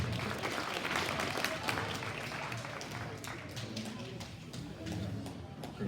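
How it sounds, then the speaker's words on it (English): Spectators at a cattle show clap for a winning exotic heifer exhibitor, a soft, diffuse round of applause in a large arena, with voices murmuring underneath. "Let's give Bristol a nice round of applause, please."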